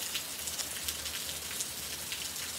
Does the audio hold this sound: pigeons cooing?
no